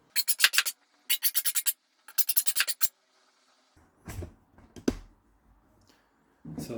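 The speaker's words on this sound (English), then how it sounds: "Need some deburring. Still a bit unsafe to handle." Scrap metal edges deburred with a file in three quick bursts of rapid rasping strokes, followed by a few quieter scrapes and handling knocks.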